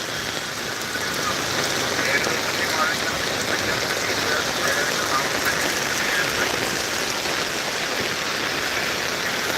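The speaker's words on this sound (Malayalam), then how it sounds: "അതിശക്തമായ മഴ തന്നെയാണ്" Heavy monsoon rain pours down in Idukki district, Kerala, a dense, steady hiss that stays loud and unbroken throughout, with no clear voices over it.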